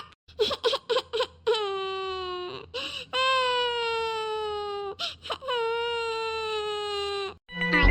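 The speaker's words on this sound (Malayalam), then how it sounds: "എല്ലാം ചെയ്തു വെച്ചിട്ട് അവളെ കിടന്ന് കരയുന്നു" A cartoon girl wails and sobs in long, loud, drawn-out cries broken by short whimpering gasps, close and alone, in a Malayalam fun cartoon episode about ice cream.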